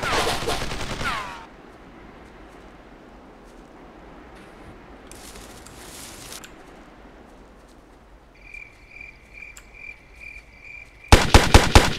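Bursts of gunfire in a Ghost Recon tactical shooter during an online mission to rescue downed F-18 pilots, a loud volley at the start and another at the end, with quieter ambient stretches and a faint beeping in between.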